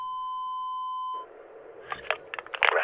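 A long, steady voicemail beep sounds for about a second, then cuts off, followed by faint rustling and muffled noise as a caller's message begins.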